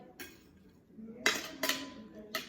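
Knife slicing through crispy fried soy sauce fish, a few sharp crunchy crackles in quick succession with light clinks against the plate, close and fairly quiet.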